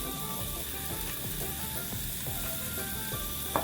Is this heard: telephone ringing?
no